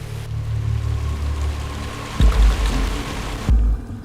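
An outboard motorboat engine drones steadily as the boat runs upriver, a low continuous hum with a couple of brief heavier surges near the end and no talk.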